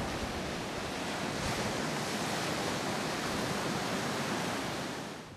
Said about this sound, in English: Waves wash in and move the sand grains around